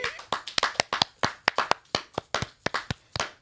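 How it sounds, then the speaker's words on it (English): Crisp, close-miked hand claps in an even, rhythmic beat, about four per second. A few people clap together with no talking over them. "Clap your hands if you're going to Hawaii."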